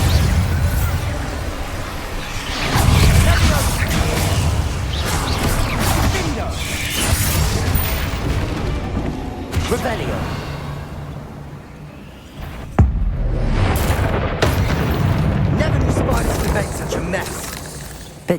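The Bombarda blasting spell in Hogwarts Legacy erupts in dense game explosions and shattering debris, loud and sustained with rumbling bursts and a sharp crack near the end, while a character voice is heard amid the action.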